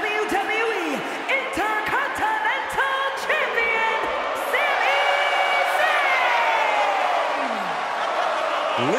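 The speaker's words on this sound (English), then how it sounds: "Listen to the energy in here for Sami Zayn" A packed WrestleMania arena crowd roars, whoops and yells for a wrestler's entrance, a dense, loud and continuous wall of excited voices with individual shouts poking through.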